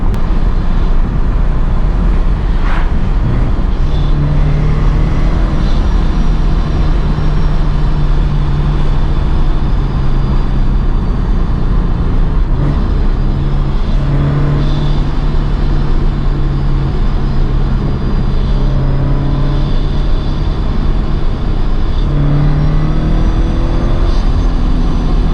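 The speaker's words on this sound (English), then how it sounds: "This car with a supercharger and the quiet exhaust is such a blast to drive" Supercharged Subaru BRZ with a quiet exhaust driving along curvy, winding backroads, heard from inside: a steady engine drone with low hum and whine that rises and falls with the revs, continuous and close, with no talking.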